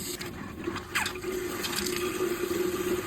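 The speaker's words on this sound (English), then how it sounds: "Open up this, which will let the water through." Water rushes and gurgles through the water heater lines of a trailer, a steady close flow with small bubbling splashes throughout.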